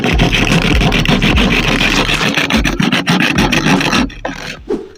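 A snow spray can is cut open with steady, loud rasping back-and-forth strokes for several seconds, then the scraping becomes sparser and weaker.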